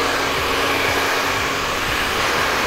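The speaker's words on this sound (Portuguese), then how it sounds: "Agora a gente seca com o secador." A hand-held hair dryer blows steadily at close range, a continuous loud airy roar with a low motor hum underneath, running without pause.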